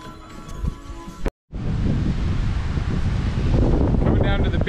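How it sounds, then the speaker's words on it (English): Wind at a beach buffets the microphone in a loud, continuous rushing roar, with a brief cut near the start and faint surf mixed underneath. "The wind feels really good."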